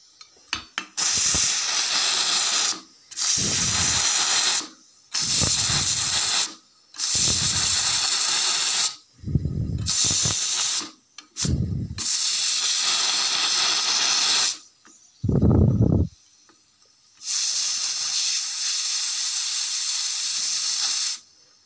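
A pressure cooker making mint rice vents steam in loud, harsh hissing bursts, roughly eight of them separated by short pauses, with a few lower rumbling puffs mixed in.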